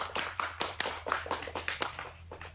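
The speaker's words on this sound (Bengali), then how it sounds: "একটা হাততালি হয়ে যাক" Brief applause at a ping pong ball challenge, a scatter of hand claps in uneven rhythm over a steady low hum, moderately close.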